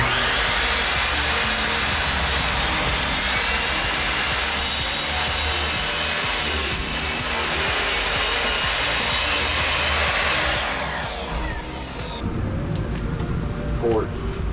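A power saw rips lengthwise through a wood board for a custom console on a Boston Whaler 13 boat restoration, a loud, steady cutting drone for about ten seconds before the blade winds down and stops.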